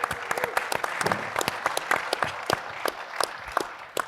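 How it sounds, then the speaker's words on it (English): An audience at a Sea-Air-Space aviation conference gives a steady round of applause, dense overlapping claps of moderate loudness continuing evenly and tapering slightly at the end. "Big round of applause for him,"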